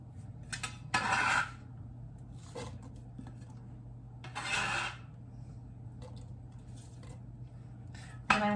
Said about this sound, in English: put your apples in. All those beautiful apples that we diced earlier